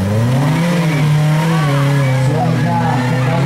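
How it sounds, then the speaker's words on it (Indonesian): Off-road rally car engine at an extreme off-road championship stage in Soppeng, South Sulawesi, restarting and revving with a steady droning pitch that rises and wavers, loud and continuous, while a commentator talks over it. "Suaranya kembali engine on, starter engine kembali dinyalakan"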